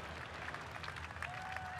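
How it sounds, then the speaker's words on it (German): Steady crowd applause rolls through a round of EA Sports PGA Tour golf at Pebble Beach, a dense wash of clapping that holds for the whole stretch at an even, moderate level. "ein bisschen mehr Applaus dürfte es schon sein"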